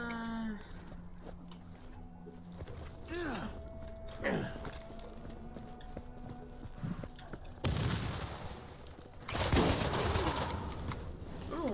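Bursts of gunfire from the video game Borderlands crack out at intervals, some as sharp single shots and others as rapid volleys that grow denser and louder near the end, with voices talking over them.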